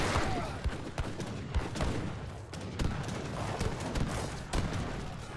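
Cannons firing in a strategy video game, a dense battle din of repeated booms and impacts landing in irregular bursts over continuous rumbling noise.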